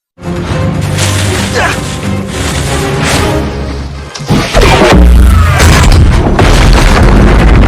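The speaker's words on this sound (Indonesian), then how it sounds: "Sampai akhirnya Nathan berhasil menghancurkan helikopter Braddock menggunakan meriam kapal tersebut." A heavy ship's cannon boom followed by a crashing explosion as a helicopter is destroyed, loud and dense, amid continuous roaring battle noise.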